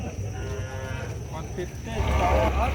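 Deep, drawn-out lowing from water buffalo at a livestock market in Urdaneta City, Pangasinan, with a louder bellow near the end over a busy outdoor background.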